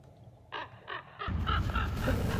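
A hooded crow gives three or four hoarse, evenly spaced caws, fairly close and clear, before a louder outdoor background of wind and rustle rises.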